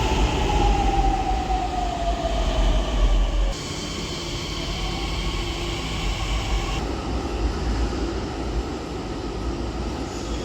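Steady rumble of a Pune Metro train running from Deccan toward Ramwadi, loud and continuous, with a falling whine early on and a shift in the hum midway.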